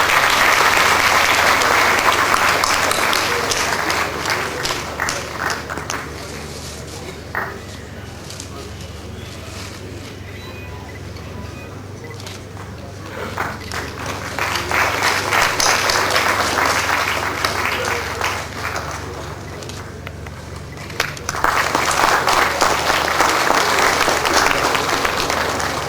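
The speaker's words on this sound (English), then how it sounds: "Can we have a huge round of applause, please?" An audience at an endowment lecture breaks into sustained applause, loud bursts of clapping that dip briefly mid-way and then surge again toward the end.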